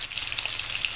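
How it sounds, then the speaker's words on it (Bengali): Potatoes fry in hot oil in a pan, giving a dense continuous crackling sizzle with small pops, close and steady, with no talking. "আলু ভাজা হচ্ছে"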